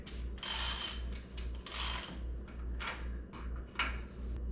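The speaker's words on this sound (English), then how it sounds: "I'm gonna go ahead and remove the drive side. This is another one of those things that has uh, reverse threads on it." A reverse-threaded drive-side bottom bracket is unscrewed from a bicycle frame during an electric-bike conversion, giving several close metallic ratcheting and grinding bursts over a steady low hum.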